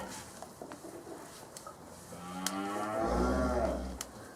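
A dairy cow moos once, loud and close, a long low call rising near the end, after a quiet stretch of faint taps and shuffling during milking.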